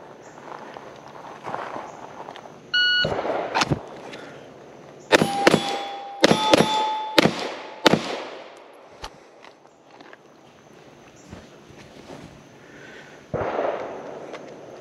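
A pistol shooting drill on a course of fire: a timer beep, then a rapid string of about seven sharp, loud gunshots in quick succession, followed by scattered softer footsteps and movement.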